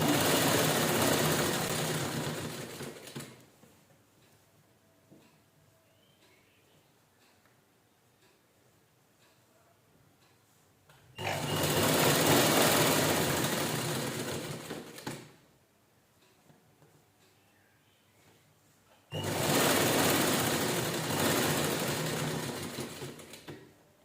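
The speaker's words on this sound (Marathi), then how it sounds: "तिन्ही कपडे व्यवस्थित एकसारखे धरायचे आणि स्टिच करून घ्यायचे." An electric sewing machine stitches three layers of blouse fabric in bursts of steady whirring separated by quiet pauses, three runs in all, close and fairly loud with no speech.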